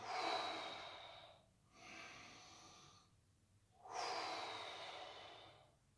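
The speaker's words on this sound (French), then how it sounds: "je respire, prends une inspiration et en soufflant" Slow, deep breaths during a back stretch, a long airy inhale followed by a pause and a steady exhale, then another breath in, close and quiet with no talking.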